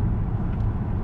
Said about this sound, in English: And that exhaust note, wow.